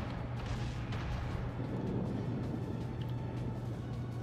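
A Kongo battleship's heavy guns fire in a World of Warships naval battle: a dense, loud, continuous booming rumble that rolls on without pause, with no one talking over it.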